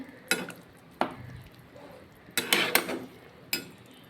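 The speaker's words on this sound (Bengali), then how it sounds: "এবার আমি ঢাকাটা খুলে দিই।" Metal lid lifted off a pot of simmering lentil-ball curry, a handful of sharp clinks and clanks spaced apart, close and fairly quiet, with a faint sizzle beneath.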